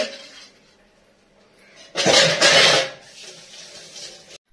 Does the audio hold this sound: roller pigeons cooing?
no